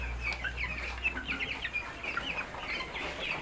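Broiler chickens cluck steadily and close by, with many overlapping short calls over a low background hum.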